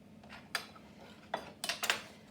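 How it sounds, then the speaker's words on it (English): A non-stick baking mat set onto a metal baking tray gives a few light, close clinks and taps spread over about two seconds in an otherwise quiet room. "I am going to use a non-stick baking mat on mine."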